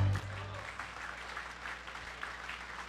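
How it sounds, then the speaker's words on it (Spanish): Church congregation applauding, a steady wash of moderate clapping from a crowd after a brief low tone at the start. "Dale un aplauso al Señor."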